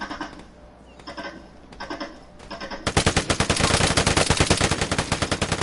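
Rapid automatic gunfire in the Vigor video game fires at the player: after a few quieter seconds, a loud, continuous machine-gun burst of evenly spaced shots runs to the end.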